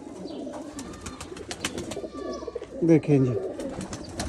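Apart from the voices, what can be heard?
pigeon cooing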